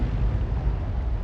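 A tank cannon fires at an SU-130 in a video game battle, giving a deep, sustained rumbling boom that fills the whole moment at steady loudness with no speech over it.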